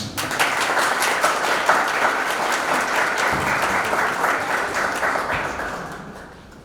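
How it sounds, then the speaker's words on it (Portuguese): An audience applauds to welcome a speaker onto the stage at an evening talk, giving sustained, even clapping at full strength that tapers off over the final second. "recebam com um aplauso, por favor"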